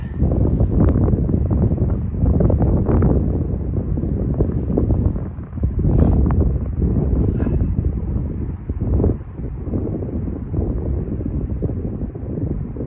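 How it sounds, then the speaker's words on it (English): Gale-force wind buffets a fishing bivvy on a Cheshire mere in winter, a loud continuous roaring rumble with gusting surges and fabric flapping, close and unbroken, with no talking. "Blowing a gale again, that's why I'm inside the bivvy"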